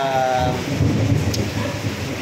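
Heavy rain falling steadily in a broadband wash with low rumbling, continuous and fairly loud throughout, with no clear voices over it.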